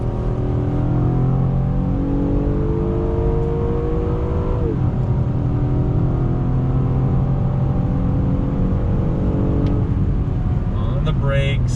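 A 2020 Acura TLX A-Spec PMC Edition with all-wheel drive accelerates hard in Sport Plus mode, its engine note climbing steadily through smooth automatic upshifts, loud and continuous from inside the cabin, with a voice speaking over it.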